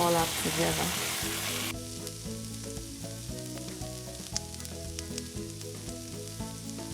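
Kapenta curry with garlic, red onions and mild and hot curry sizzles steadily in a pan as it is stirred together, a continuous frying hiss with occasional clinks and no voices.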